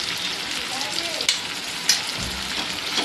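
Chicken liver frying with turmeric and ginger-garlic paste in a home kitchen, a steady close sizzle and crackle throughout with a couple of sharp stirring clinks, no talk.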